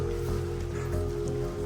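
Steady rain falls outside a rocky cave shelter on a hike through the Lake District, a continuous close hiss of drops on wet surfaces with no break through the short stretch.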